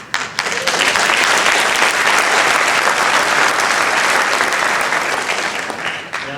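A large audience at a university presidential inauguration applauds steadily, a dense, loud wash of clapping that holds evenly for several seconds before easing slightly at the end.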